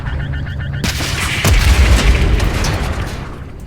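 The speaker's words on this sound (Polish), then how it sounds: "Walnij rakietą w tę wieżyczkę" A rocket launched at a turret in Call of Duty Modern Warfare 3: a steady mechanical hum, then a sudden blast and a deep rumbling explosion that rolls on and slowly fades, loud and close, with no voices.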